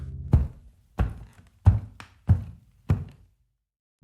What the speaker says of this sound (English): Then, footsteps echoed above him.